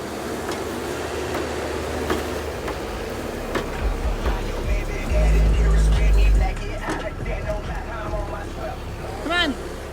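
A backhoe engine rumbles steadily while a truck is smashed, swelling into a loud, deep roar midway before settling back, with voices talking over the machinery.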